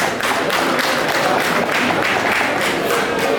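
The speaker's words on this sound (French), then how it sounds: "Applaudissons pour nous-mêmes." A crowd clapping together at an outdoor cultural festival, steady dense applause filling the whole stretch at even loudness, close and full, with no voices standing out.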